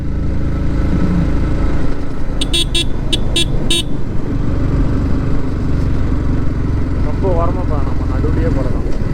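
Car traffic passing on a road in Karnataka, with a steady loud engine and road rumble throughout, a burst of several short horn toots early on, and voices talking over the traffic.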